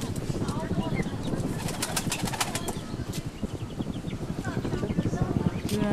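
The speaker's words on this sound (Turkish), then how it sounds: "Güvercinler. Çok güzel ötüyor." Pigeons coo repeatedly at close range among other birds, with flapping wings and steady chirping, while people talk nearby.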